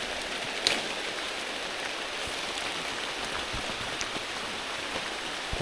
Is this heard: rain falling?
yes